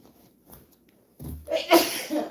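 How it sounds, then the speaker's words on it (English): A single close sneeze bursts out after a quiet moment, followed by a breathy exhale. "Oh, sneezing this morning."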